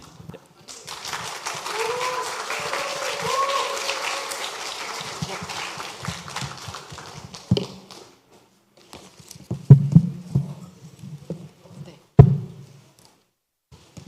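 A church congregation gives a hearty round of applause to welcome a speaker, dense clapping for several seconds that fades out, followed by a few scattered thumps and knocks.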